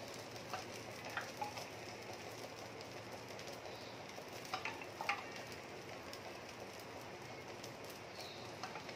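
Uttapam batter frying in oil on a hot pan, a steady soft sizzle and crackle running throughout at low level, with a few faint chirps in the background.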